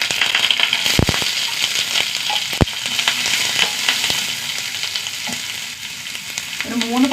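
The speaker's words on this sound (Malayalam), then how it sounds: "ഒരു 3 പച്ചമുളക്, ഉള്ളി നന്നായി വാടി വരട്ടെ." Onion, dried red chillies and curry leaves fry in hot oil with a close, lively crackle and hiss. A few sharp clicks from the pan or spoon cut through, and no one talks.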